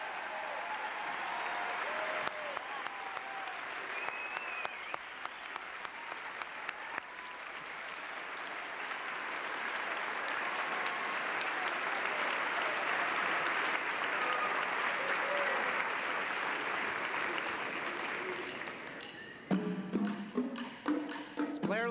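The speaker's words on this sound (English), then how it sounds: "Let's give them a good round of applause." An audience gives the sixth grade band a long round of applause at a school induction ceremony, with loud, steady clapping that swells and holds for about eighteen seconds before dropping off, followed by a voice over a loudspeaker.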